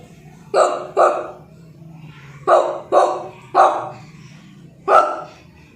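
A boy at a school in Kannolli, Sindagi taluk, Vijayapura, imitates a dog, barking in short bursts, mostly doubled woofs spaced by brief pauses, loud and close.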